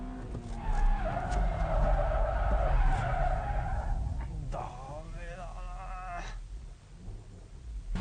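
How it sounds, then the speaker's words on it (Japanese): A front-wheel-drive car is spun using steering and brakes. Its tires skid and squeal loudly and close by, wavering in pitch over the engine drone, then trail off. "ステアリングとブレーキでスピンさせる"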